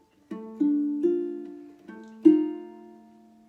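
A few plucked ukulele notes and chords from a song, a thumb stroke then ring-finger pops, about five separate attacks ringing out close and clear with no voice.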